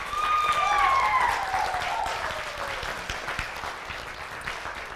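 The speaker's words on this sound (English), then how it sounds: "give them a round of applause" Audience applause for performing artists at a music night event, a broad wash of clapping that starts loud and slowly thins, with a sustained tonal whine sweeping across the start.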